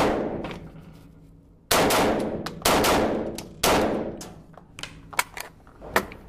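Shots from an Alfatech 15 carbine, a Russian rifle, fired at close range: three loud, sharp reports about a second apart, each with a long reverberant tail, followed by quieter metallic clicks and clanks.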